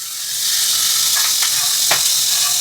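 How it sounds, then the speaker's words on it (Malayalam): Spinach dropped into a hot pan sets off a loud, steady sizzle with a few sharper crackles and stirring scrapes over a brief moment, no speech. "നമ്മളിതിലേക്ക് ചീര ഇടുകയാണ് ഗൈസ്."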